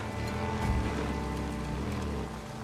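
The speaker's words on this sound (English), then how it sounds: "And now it's raining." Steady rainfall in the video game Days Gone patters in a continuous hiss with low rumbling underneath, heard alone without voices.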